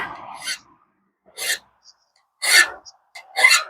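A hand file rasps across the bevel of a pruning blade in four separate strokes with brief silences between them, close and crisp.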